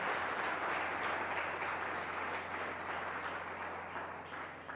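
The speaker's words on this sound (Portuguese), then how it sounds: "eu gostaria que você dê uma salva de palmas pela palavra de Deus" A church congregation applauds during a service, dense sustained clapping from the whole room that fades slightly toward the end, with no talk over it.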